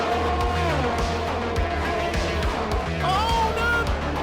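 F1 race cars at Imola in a PC racing game, engines whining and shifting steadily throughout with a rising pitch sweep near the end, loud and continuous with speech-like commentary mixed in.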